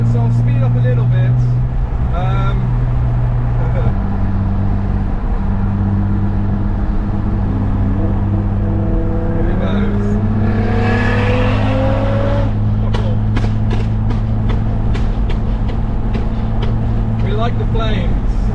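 A modified car accelerates on a UK road toward a tunnel, its engine droning loudly up close with rising revs and gear changes, while voices talk over it.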